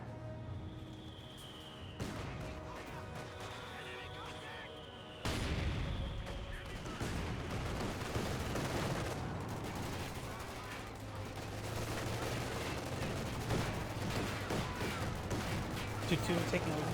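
Incendiary mortar rounds fire from a mortar half-track in the World War II game Company of Heroes 2, with sharp booms and crackling gunfire bursts at intervals over several seconds, mixed with ongoing battle noise and a low engine rumble.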